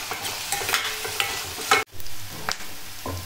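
Onions and curry leaves frying in a pan while being stirred: a steady close sizzle with scraping spatula strokes, a brief pause partway through, then more stirring.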